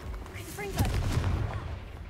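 A Confringo fire spell blast goes off in Hogwarts Legacy, a sudden booming burst around the midpoint that is followed by a rumbling, crackling tail. A voice casts the spell just before the explosion.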